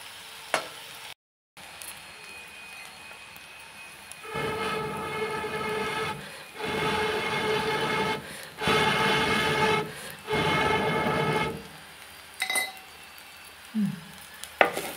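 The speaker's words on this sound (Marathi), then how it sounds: "तर कांदो चांगलो परताकोय." Chopped onion frying in a pan for a red amaranth vegetable dish, a steady hissing sizzle that swells in long stretches as it is stirred, with brief scraping clicks and quieter pauses between.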